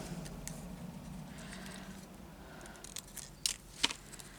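Paper is cut with scissors at a desk while making a journal, giving a few quiet snips and crisp clicks that grow sharper toward the end over faint rustling, with no voices.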